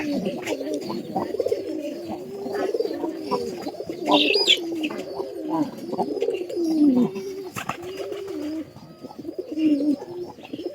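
Several pigeons coo in repeated low, throaty phrases close by, with a few faint chirps and small rustles in the background and no talking.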